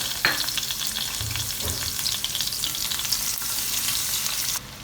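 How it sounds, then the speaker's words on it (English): Garlic fries in olive oil in a pan over a low flame, giving a continuous close sizzle with a few soft knocks and scrapes from stirring. The sound drops off abruptly at the very end. "now I'm gonna add the garlic and then we are gonna cook it"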